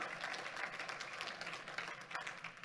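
Church congregation giving a loud round of applause during a sermon, faint and somewhat distant, a steady even patter of many hands clapping without a break.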